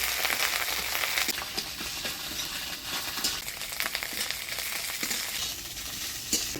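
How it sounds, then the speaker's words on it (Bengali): Fish roe rubbed with turmeric and salt frying in a pan with green chilli, giving a steady close sizzle with small crackles throughout and no talking. "ডিমটা ভাজা ভাজা করে নেব"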